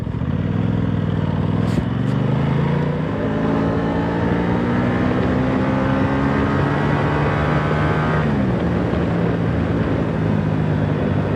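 Aprilia Tuono 660 Factory motorcycle accelerating hard for an overtake, the engine loud and close with its pitch climbing through the gears under steady wind rush.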